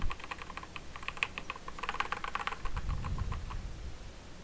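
Fast, irregular clatter of keys on a computer keyboard, close and moderately quiet, with bursts of rapid keystrokes and short pauses, alone without speech.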